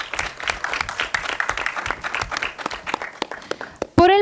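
Audience applause at a sexual education forum in a legislative setting, dense clapping filling the room steadily before cutting off abruptly near the end.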